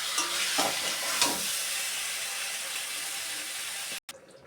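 Mutton curry sautéing and being stirred in a pan, a steady close sizzle with scraping spoon strokes over the first second or so, then a sudden cutoff near the end.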